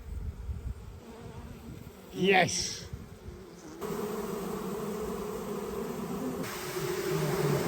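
Bees buzzing as they emerge from a smoked beehive, a steady close hum with one louder passing buzz, and a brief spoken word.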